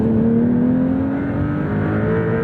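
A 2026 Porsche 911 Carrera T of the 992.2 generation pulls hard, its engine note climbing slowly and steadily in pitch for a couple of seconds. The drone is loud, close and continuous, with no talking.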